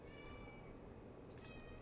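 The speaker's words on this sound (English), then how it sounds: "there's a cat outside" A cat meowing outdoors, a single drawn-out, fairly faint meow set against a steady background hum.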